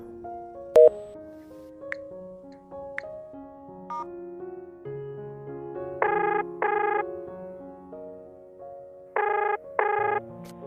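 A telephone ringing for an incoming call, an electronic melodic ringtone of stepped notes followed by repeated bursts of ring tones, loud and close with no talking.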